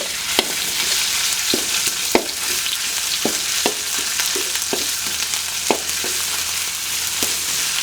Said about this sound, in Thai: ผัดพริกแกงให้หอมเลยนะครับ